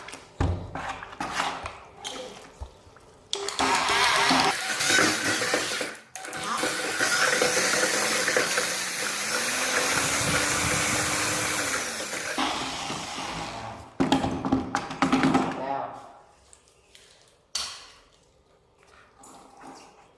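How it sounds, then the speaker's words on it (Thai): An electric mortar mixer's paddle churns tile adhesive with water in a loud, steady motor whir lasting about ten seconds, its pitch rising briefly as it speeds up, followed by a few shorter bursts and clatter. "ที่ปั่นปูนของบริษัทนะครับอันนี้"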